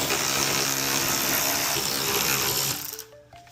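An electric ratchet spins out engine cover bolts on an Audi B9 S4 with the 3.0T engine, a close, steady motor whir for about three seconds before winding down and stopping.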